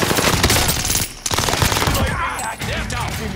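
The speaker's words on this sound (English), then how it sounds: "Under fire here." Rapid gunfire from a Call of Duty: Modern Warfare match, dense overlapping automatic bursts and single shots filling the clip with a brief lull near the middle, loud and close.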